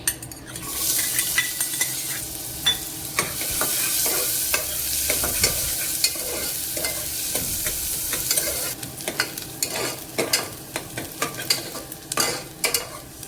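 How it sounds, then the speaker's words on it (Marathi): Onion frying in hot oil for a homestyle mutton dish sizzles steadily while a utensil stirs and scrapes the pan, with repeated clinks and scraping strokes growing more frequent toward the end; no talking. "आता तेल तापलं, यात मी ॲड करते कांदा"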